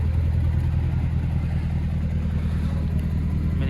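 A decatted Mercedes C63 AMG Black Series with a 6.2L V8 idles nearby with a deep, steady, loud burble and a faint uneven pulse, without any talking.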